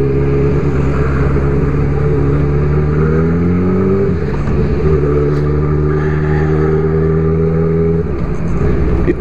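Motorcycles at the Ostras Cycle 2015 meeting in Rio das Ostras rev hard nearby. The engines make a loud, continuous drone with rising and falling pitch sweeps, and no voices are heard.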